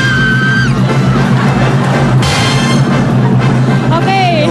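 A contestant screams at full force in a screaming contest before a noisy crowd, the sustained loud yell rising over constant chatter and cheering, with more shrill cries near the end.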